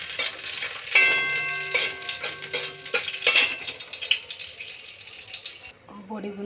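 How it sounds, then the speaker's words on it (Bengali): Dried lentil dumplings (bori) fry in a pan with a steady close sizzle, interrupted by spatula scraping and stirring clinks against the pan. "বড়িটা ভেজে নিচ্ছি।"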